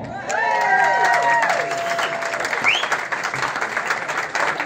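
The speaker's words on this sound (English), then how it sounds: "So, round of applause, come on." Audience applause fills a launch night for a racing team, a broad steady wash of clapping from a crowd, loud and sustained throughout with some voices mixed in.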